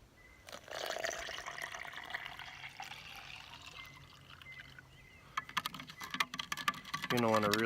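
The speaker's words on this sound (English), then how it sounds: "You're gonna want to really give it a good stir." Orange ration drink powder is stirred into water in a camping cup, giving soft liquid swishing and a burst of quick clicking and scraping near the end before a voice starts speaking.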